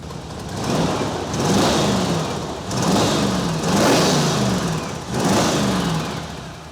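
The engine of a 1986 Ford F150 pickup truck runs after a fuel injection repair, revving up in three swelling surges close by, with a rough mid-pitched drone between each rise.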